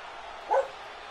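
One brief bark from a dog named Titus, fairly close and clear, rising out of a steady low background hiss.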